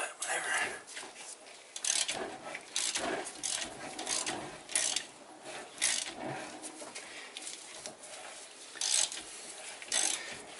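A hand ratchet turns repeatedly, tightening new wheel studs on a 2010 Ram 2500 Cummins Mega Cab, giving close rhythmic clicking and grinding strokes in bursts with short pauses.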